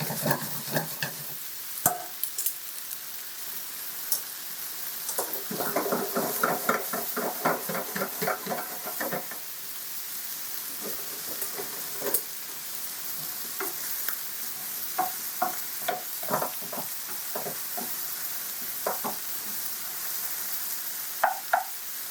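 Seitan, peppers and garlic sauté in a hot pan with a soft steady sizzle, broken by bursts of stirring and scraping as the food is pushed around.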